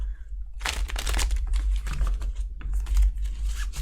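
Tarot cards are shuffled by hand in a dense run of quick riffling and flicking, close and steady over a low hum, with no talking.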